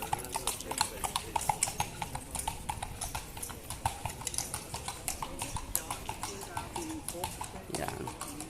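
Horse-drawn carriage hooves clip-clop on a city street in Palma de Mallorca, Spain, a steady rapid rhythm of hoof strikes at close range over busy street noise, with people talking nearby.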